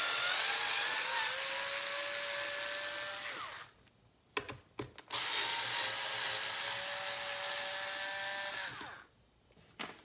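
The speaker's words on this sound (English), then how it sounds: "We're going to remove the top 2 screws." An electric screwdriver whines in two sustained runs, each winding down, while removing screws from the front pad of a Onewheel electric board, with a few sharp clicks in the quiet gap between runs.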